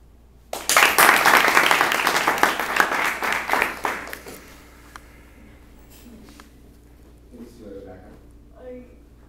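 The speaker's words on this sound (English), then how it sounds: "let's give him a round of applause." Loud applause at an acting course bursts out and rolls on for several seconds, gradually thinning out, then a few voices talk faintly as it dies down.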